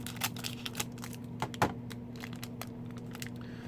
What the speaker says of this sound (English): I'm gonna take the scissors.